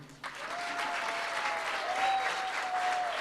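Sustained applause from a drama audience at a Kannada play, steady and fairly loud throughout, with a faint tonal whine running underneath and no speech.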